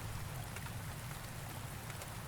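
Steady rain falls with an even, dense hiss that never breaks, with no voices.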